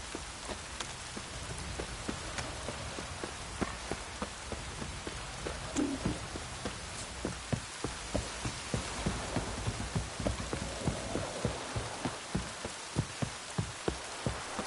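Heavy rain pours steadily in The Witcher video game, a dense hiss of drops with repeated soft thudding spatters throughout.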